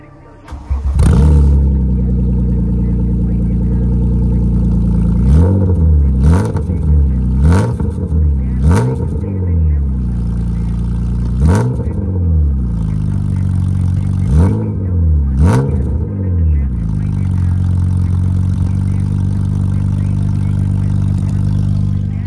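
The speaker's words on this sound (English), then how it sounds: "That's with no exhaust. Kind of loud. It's kind of really loud." BMW E36 engine running with no exhaust fitted, idling loud and raw with a string of sharp revs that climb and fall back, close and dominant throughout.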